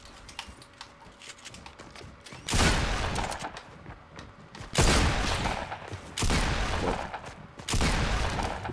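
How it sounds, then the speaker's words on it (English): Bursts of gunfire from the Fortnite battle royale video game, four loud broadband volleys separated by brief quieter gaps, with no talking over them. "Why did that take 3 shots?"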